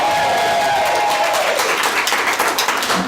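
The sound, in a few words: live conference audience cheering and applauding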